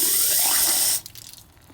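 Water jet sprayed into a radiator hose on a 1993 Ford Bronco, a loud steady hissing spray for about a second that cuts off abruptly, followed by faint dripping and splashing.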